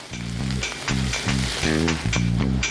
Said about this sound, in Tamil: இப்போது கொஞ்சம் வெங்காயத்தை ஆட் பண்ணுறேன். நல்லா வதக்கிக்கோங்க.